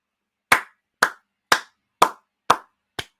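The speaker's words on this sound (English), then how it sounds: "So all you can do is applaud Messi" Six evenly spaced sharp hand claps, about half a second apart, close and dry, applauding Messi while watching Argentina versus Croatia at the World Cup.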